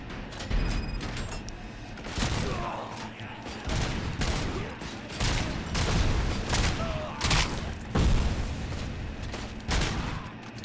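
Gunfire in the RoboCop: Rogue City video game, dense repeated shots and booming bursts firing in rapid succession, loud and sustained for the whole stretch.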